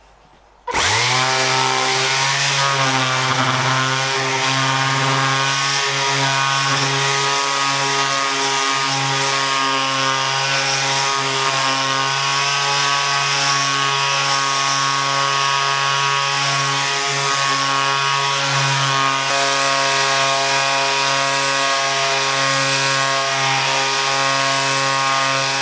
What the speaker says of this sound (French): Pour ça, je vais utiliser un abrasif au grain 60. Et on va démarrer en vitesse maximale.